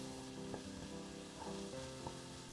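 Onions frying in butter in a pan over medium-low heat, a steady soft sizzle close by with a few light scrapes of stirring.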